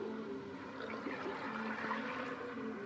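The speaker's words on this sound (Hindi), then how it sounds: "इतना मैंने पानी इसमें डाल दिया" Water pouring steadily into a pot of beef being cooked for nihari, a continuous close wash of splashing liquid with no talk.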